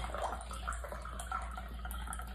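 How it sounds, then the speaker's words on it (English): A margarita being poured into a glass, a short run of gurgling liquid with a few small splashes over a low steady hum, close and fairly quiet. "Matter of fact, I'm going to pour me out some more."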